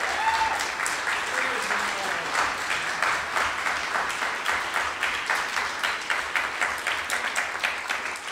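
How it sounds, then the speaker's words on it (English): A crowd applauds with sustained, dense clapping that continues steadily throughout, loud and close. "Give him another round of applause."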